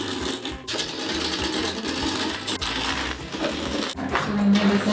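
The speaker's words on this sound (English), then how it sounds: "we could start turning the outside of the bowl" A woodturning lathe spins as a traditional tool push-cuts the outside of a wooden bowl, producing a continuous close scraping, chattering cut with small bumps and pauses in the cut and no talking.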